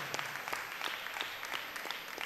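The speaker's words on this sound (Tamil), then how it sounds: "ஜோரா கைத்தட்டி வாழ்த்துக்கள்" An audience at a church Mass for newly appointed parish leaders claps and applauds in a continuous, even burst with individual hand claps poking through, moderately loud and without speech.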